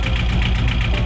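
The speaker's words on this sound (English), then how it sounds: "this engine is a little bit of a shaky little guy" A small liveaboard boat's engine runs roughly, giving a loud, close, steady rumble with a shaky, pulsing vibration and no talk.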